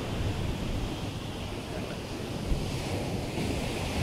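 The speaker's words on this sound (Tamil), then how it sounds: "பின்னாடி வந்து கடல் சவுண்ட் கேட்குதா இல்லையா?" Sea surf rolls in a continuous broadband wash, recorded on a OnePlus 13 phone at the shore, with steady wind buffeting the microphone and no voices.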